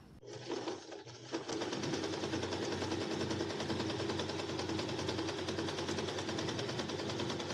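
A domestic sewing machine stitches at a normal straight-stitch setting with a steady, continuous, fairly loud mechanical whir, starting after a brief uneven moment and then running alone without pause.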